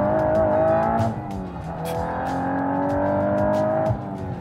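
A Volkswagen Golf pulls hard in second gear up a highway on-ramp, its engine note loud and close inside the cabin, climbing in pitch with a brief dip around a shift before rising again.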